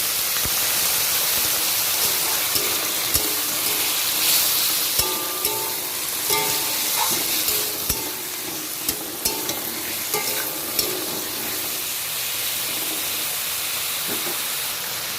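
Spices sautéed in a pan for a fish curry with papaya and potato, a constant frying sizzle and hiss broken by scattered clinks and scrapes of a spoon stirring, close and without talk.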